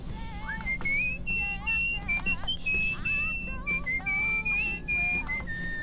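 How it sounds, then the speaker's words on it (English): A melodic whistled tune in the video game Where the Water Tastes Like Wine, clear pitched phrases rising and falling over quiet background music, with a voice talking faintly underneath. "The whistling is just so much worse than the background music."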